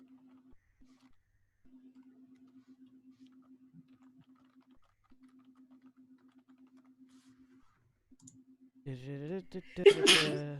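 A single sharp sneeze bursts out near the end, following a long stretch of faint steady ticking.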